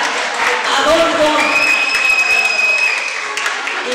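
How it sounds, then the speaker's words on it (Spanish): Guests at a family birthday and graduation party applaud steadily with a lively crowd murmur, the clapping mixed with voices and a few tonal sounds in a busy room. "¡Venga, muchos aplausos para Adolfo!"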